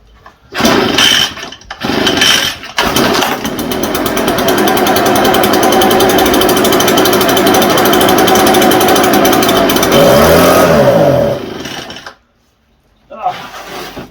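ECHO TB580T backpack blower engine with a fuel fault, sputtering in short bursts, then running loud and rough for several seconds, rising briefly before cutting out and restarting, with people talking nearby.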